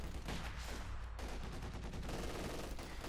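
Machine gun fire in the World War II strategy game Company of Heroes 2, a dense, steady rattle of bursts blended into continuous battle noise, fairly quiet in the mix.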